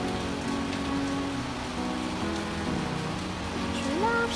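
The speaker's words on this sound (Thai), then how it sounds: "น่าจะเป็นฝนตกด้วยแหละ" Steady rain falls outside a house in Thailand, a continuous close hiss of drops hitting surfaces with a faint tonal hum underneath.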